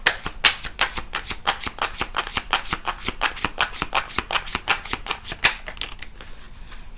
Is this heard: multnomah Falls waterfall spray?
no